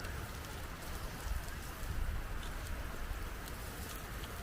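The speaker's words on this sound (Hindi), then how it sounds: "लैम चॉप्स जो हैं वो खूब ज़ोर और शोर से बन रहे हैं।" Lamb chops sizzle loudly over an open fire outdoors in Lahti, Finland, a dense, steady crackling hiss that fills the whole stretch without letup.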